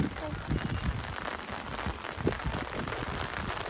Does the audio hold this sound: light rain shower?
yes